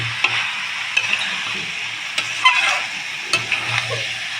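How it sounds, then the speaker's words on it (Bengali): Boiled potatoes being stirred and sautéed in an oily spice mix for an aloo chana curry, giving a steady close sizzle with occasional spoon scrapes and clinks, no voices. "আলুটা দিয়ে একটু কষিয়ে নেব।"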